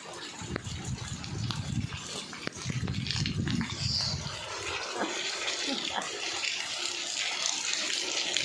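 Floodwater from heavy rain running through fields beside a house makes a steady, broad rushing wash, with a closer low gurgle and splashing during the first few seconds before it settles into a continuous hiss.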